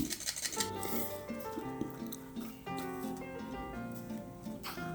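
Cookie dough with yogurt or sour cream is stirred in a bowl, soft scraping and light clinks of utensil against the bowl, close and quiet under a layer of background music.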